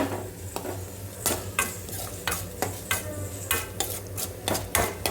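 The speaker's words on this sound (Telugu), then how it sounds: "ఇది వచ్చేసి మంచిగా మిక్స్ చేసుకోవాలి" A spoon stirs tomato rice seasoned with jeera powder, dhaniya powder and garam masala in a pan, scraping and clinking in quick irregular strokes over a soft close sizzle, with no talking.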